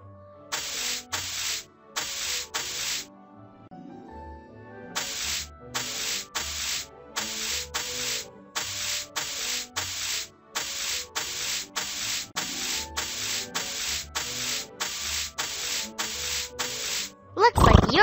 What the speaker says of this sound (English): Let's grab and drag the brush over your coat, Minimus.